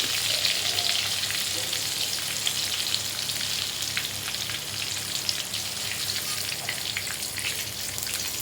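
Small whole green chillies frying in hot oil, a dense, even crackling sizzle with scattered pops, close and continuous without voices.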